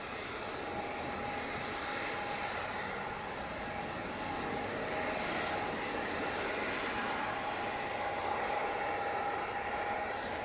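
A TUI Dreamliner airliner departing Manchester Airport roars steadily at a distance, a broad even engine rumble with a faint whining tone running through it.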